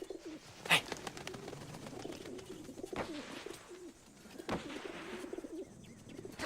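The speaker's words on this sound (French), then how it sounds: "C'est un brave pigeon voyageur britannique." A British carrier pigeon gives soft, low cooing calls in a quiet wartime setting, faint and intermittent against background rustle, with a sharp knock early on and no speech.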